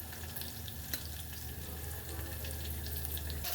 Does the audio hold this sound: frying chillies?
yes